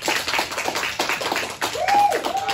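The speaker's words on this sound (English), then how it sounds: "can the kitchen please just give him a round of applause" Kitchen staff at a cooking competition give a short burst of hand clapping, close and lively, with a few separate claps standing out for a couple of seconds.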